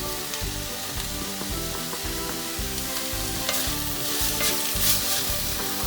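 Vegetable soup ingredients seasoned with salt, black pepper and chilli flakes being stirred and cooked in a pot, a dense, continuous bubbling sizzle with scraping strokes, loud and close, swelling slightly toward the end.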